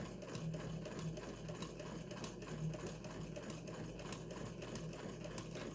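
A vintage sewing machine doing free-motion stitching runs with a steady, fast mechanical chatter, regular needle ticks repeating close and moderately loud with no talking.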